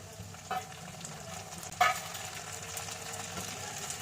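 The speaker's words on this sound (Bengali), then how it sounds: "পেঁয়াজ বন্ধুরা অনিয়ন একটু ভাজবো" Onion frying in a pan for egg curry, a faint, even sizzle with a soft stir or knock at about half a second and a louder utensil clink just before two seconds.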